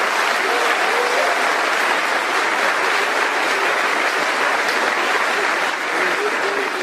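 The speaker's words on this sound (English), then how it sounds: "Let's give them a round of applause for that." A graduating high school class receives loud, sustained applause from the ceremony crowd, steady and dense throughout, with a few faint voices mixed into the clapping.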